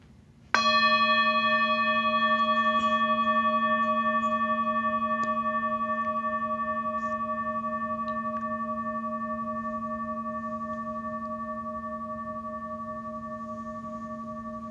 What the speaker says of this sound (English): And now I'll sound the bell